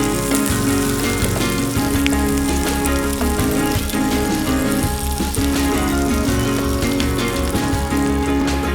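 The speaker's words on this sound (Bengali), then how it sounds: "পেঁয়াজটা আমাদের ভাজা হালকা হয়ে গেছে" Onions fry in hot oil with sugar in a pan, giving a loud, continuous crackling sizzle close by. It is dense and steady throughout, with faint music underneath.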